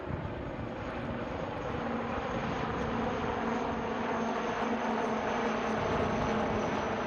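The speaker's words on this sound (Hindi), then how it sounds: "अब आ रहे हैं आपकी बाईं ओर से नौसेना के आई in the sky the falcon Kamov 31 helicopter" A Kamov Ka-31 navy helicopter flies past during a naval sail parade and flypast at Miramar in Goa, a loud, steady engine roar that holds for the whole stretch, with no voices.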